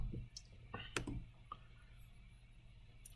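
Sparse, quiet computer mouse clicks, a few sharp ticks spaced across a couple of seconds in a still room, with a faint voice nearby.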